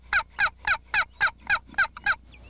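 A wooden box turkey call scraped to imitate hens in a 1989 turkey hunt, giving eight evenly spaced, loud, raspy yelps in a steady rhythm with nothing else over them.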